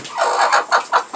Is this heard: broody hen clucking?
yes